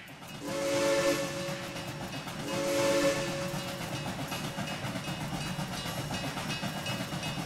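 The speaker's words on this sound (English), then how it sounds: "Gave two whistles that time." In the Trainz 2019 railway simulator, a train horn sounds two distinct blasts of about a second each, followed by steady rumbling of rolling railcars.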